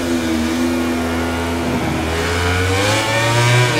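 Motorcycle engine held at full throttle in MotoGP 19 during a wet race at the Assen circuit, a steady loud whining drone with pitch shifting as it revs, no talk.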